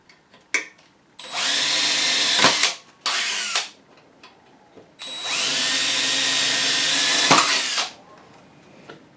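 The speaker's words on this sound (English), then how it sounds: "Then I'll go ahead and drill into those two holes." A power drill whirs close up in two bursts, drilling holes while installing an Adjust-a-Gate, the second longer and steadier, with short spin-ups and quiet pauses between.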